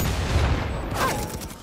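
A grenade goes off in the VR shooter Firewall Zero Hour, a loud rumbling blast near the start followed by bursts of crackling gunfire.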